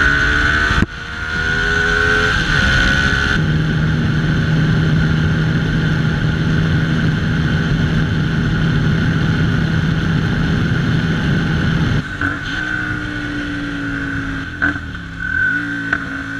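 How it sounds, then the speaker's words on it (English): A Hyosung GT 250R's 250cc V-twin motorcycle engine runs steadily, revving up and settling to a constant drone, then blipping the throttle near the end; loud and close, with no talk. "So it's a V-twin engine and it's a 250cc bike"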